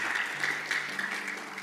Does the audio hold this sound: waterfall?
no